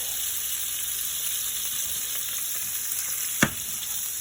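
A tilapia fillet fries in butter in a pan, giving a steady, close sizzle and hiss with one sharp clink of a utensil against the pan near the end.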